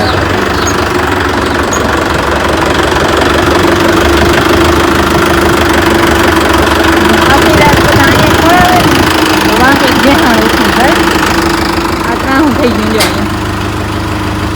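A tractor engine idles with a steady low rumble and knocking throb throughout, while voices talk over it.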